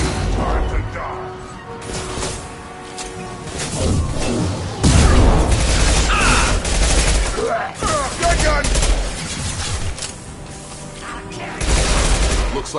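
A Mass Effect 2 firefight: repeated loud gunshots and bursts with mechanical clatter come in waves over nearly thirteen seconds, under game voices and music.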